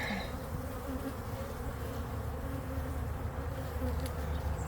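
Honeybees buzzing around an open hive during an inspection, a dense continuous drone from many insects close by, steady and unbroken throughout.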